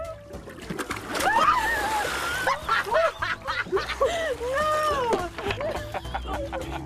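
Kayak tipping over into chilly water, a splash and sloshing followed by excited shouts, squeals and laughter from nearby people.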